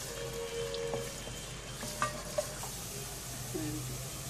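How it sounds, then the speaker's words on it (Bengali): Chopped onions frying toward light brown over medium heat, a low steady sizzle close up, broken by a few sharp clicks of a spoon stirring against the pan, with no speech. "তারপরে এটাতে আমি পেঁয়াজ কুচিগুলো অ্যাড করে দিচ্ছি, এগুলোকে হালকা ব্রাউন করে ভেজে নিতে হবে।"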